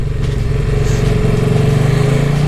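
A KTM motorcycle engine idles steadily and loudly at close range in a home garage. Its even, throbbing rumble holds with no revving across the whole stretch.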